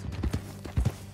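Horse hooves clip-clop on the ground in the video game Red Dead Redemption 2, a few soft, close, uneven thuds at a walking pace.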